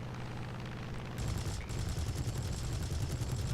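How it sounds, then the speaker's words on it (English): Rapid machine-gun fire from an F4U-1C Corsair in a flight combat game rattles steadily, then a louder, denser burst kicks in with harsh crackling shots, continuous and close. "And here I put a solid burst in that Tiffy"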